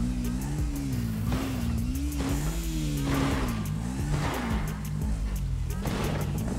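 A motorcycle engine in Grand Theft Auto V drones steadily and loudly, its pitch wavering as it revs on a parkour ramp course, with rapid ticking clicks running across the continuous roar.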